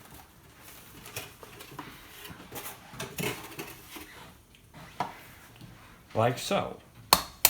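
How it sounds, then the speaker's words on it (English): Two eggs cracked open in a home kitchen during cooking, a few sharp cracks and taps near the end, heard close up beneath a speaking voice. "This happens to start with cracking open 2 eggs"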